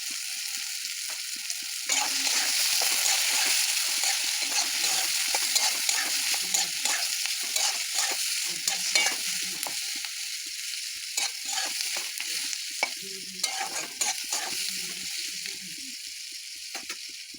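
Chowmein stir-fries in a hot pan, a steady bright sizzle running throughout, with scraping and stirring clatters of a utensil against the pan breaking through at irregular intervals.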